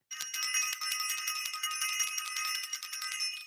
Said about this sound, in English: I want to ring the bell for self-invested and for everyone who is a part of the future activation class